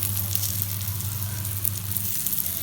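Ripe plantain slices frying in a pan with curry leaves, giving a steady, close sizzle with faint crackles and a low hum underneath, no voices.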